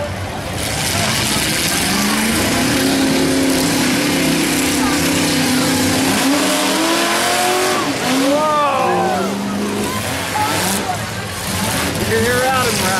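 Demolition derby cars at a county fair welded heat roar and rev loudly, engines rising and falling with tire squeals, while an announcer's amplified voice talks over the din.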